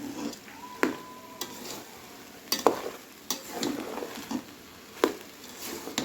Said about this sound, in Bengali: চালগুলা দিয়ে দিছি সবজির সাথে, সবজিটা কষাইয়া এখন আমি ভালো করে লাড়া দিই